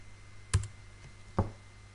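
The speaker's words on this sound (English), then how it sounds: "I'm going to type in capital S E A T T" Two crisp keystrokes on a computer keyboard, close and fairly quiet, spaced about a second apart with near silence between them.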